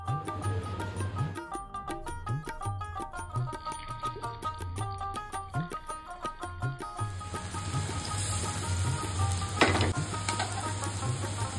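Vegetarian raw-banana (kachkola) dhoka cakes fry in hot oil, a close, continuous sizzle with a rapid run of crackling pops at first and a steadier hiss later, plus occasional light utensil clinks.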